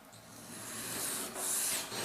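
A knife blade is stroked across a Spyderco bench stone, making a faint, soft rasping scrape that swells gradually over about two seconds in a quiet setting, with no talking.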